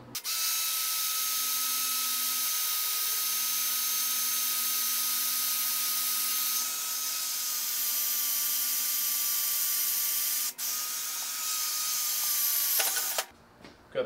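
A power drill whines steadily at a constant pitch while boring holes in metal for a mini bike motor mount, running continuously for about thirteen seconds before stopping abruptly.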